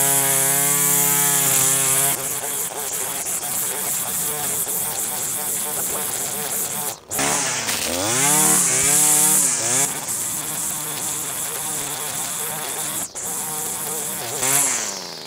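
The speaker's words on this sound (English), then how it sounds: "I'm gonna start here. This is gonna be a big job for this trimming line." An ECHO SRM-2620 string trimmer cuts through heavy growth, its loud, close, buzzing engine whine rising and falling with throttle changes and brief dips as the line strikes the vegetation.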